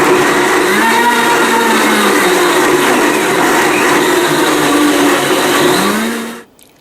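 A blender runs on high, whirring steadily through lemon juice and honey smoothie ingredients, loud and continuous before cutting off abruptly near the end.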